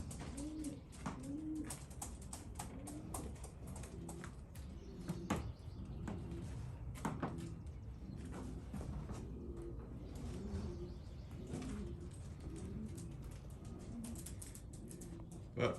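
Young satinette pigeons coo in a loft, soft repeated throaty calls coming in uneven bursts close by, with faint shuffling and clatter around them and no talk.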